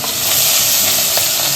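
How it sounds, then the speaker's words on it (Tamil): Grated carrot frying in hot ghee, a loud, dense, continuous sizzle and hiss close up, with faint stirring scrapes underneath. "அந்த நெய்லேயே வந்து இந்த கேரட்டை தூணது போட்டுக்கலாம்"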